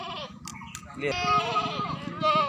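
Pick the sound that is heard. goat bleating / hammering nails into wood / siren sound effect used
goat bleating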